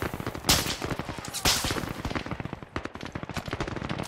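Rapid bursts of gunfire in the VR shooter Zero Caliber, with two sharp loud shots followed by a dense rattling stream of automatic fire, no voices over it.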